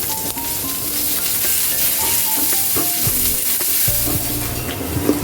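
Chopped onion frying in hot oil with cumin seeds, bay leaf, dried red chilli, garam masala, cinnamon, cardamom and cloves for a catla fish-head moong dal. A loud, steady sizzle runs throughout, with stirring scrapes and clinks mixed in.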